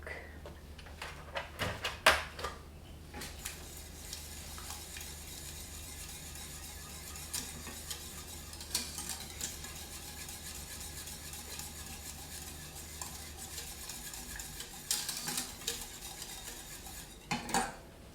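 A spoon scrapes and clinks against a metal pot in steady stirring of rice pudding with milk, with occasional sharper knocks, close by and moderately quiet.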